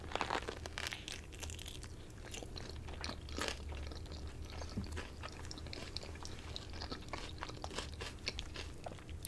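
Crunchy bites and chewing of a Buldak ramen spring roll served with onion boil, steady close crackling and crinkling mouth sounds throughout, with no talking.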